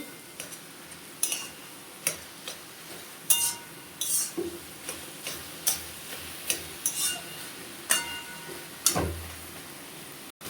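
Spicy taro greens frying in a pan are stirred with a utensil, producing intermittent scraping clicks and taps over a constant low sizzle, close up with no talking.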